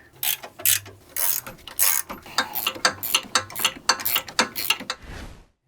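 A ratchet loosens fasteners on the front control arm bushing of a 2017-2024 Audi B9 A4, giving about a dozen quick, close ratcheting bursts in steady rhythm. It ends with a short thud.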